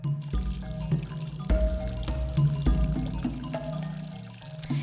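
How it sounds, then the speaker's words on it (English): Water brought from distant streams by pipe into village farmland gushes and splashes up close in uneven surges, with drips and trickles between pours, without any talk. "In this system, water is brought from distant streams through pipes and supplied to the agriculture land and villages"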